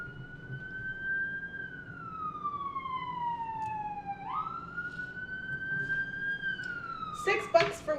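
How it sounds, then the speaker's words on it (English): An ambulance siren wails past in a long rising and falling tone that drops in pitch as it goes by, loud and clear over a low hum of background noise, with a short burst of other sound near the end. "Here comes the ambulance."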